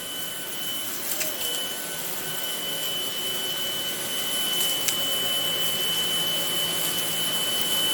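A Kobalt 24V cordless stick vacuum runs over carpet with a loud, steady high-pitched whine and airy suction roar, a few faint clicks and rustles as it moves across the pile, no talking.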